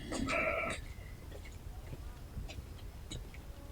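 A sheep lets out one close, wavering bleat at the start, followed by quieter shuffling and faint sounds from the household.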